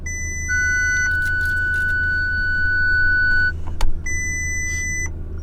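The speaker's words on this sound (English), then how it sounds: "We'll go ahead and start the car and test this out." An Audi A3 with a burnout box installed powers up with a steady low engine hum, several electronic dash beeps and chimes, and a brief clunk near the end.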